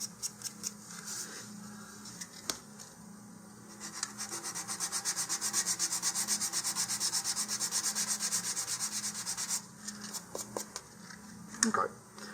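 Sandpaper scuffs back and forth in a steady, rapid rhythm to roughen a model rocket body tube where the launch lug will sit, close and moderately loud for several seconds, with a few faint taps before and after.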